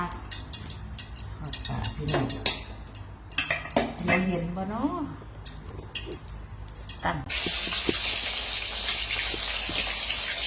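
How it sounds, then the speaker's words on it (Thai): Fish frying in a pan with utensils clattering against cookware and someone talking, then a steady loud hiss takes over for the last few seconds. "ทอดปลาพี่น้องทอดปลาปลาทอด"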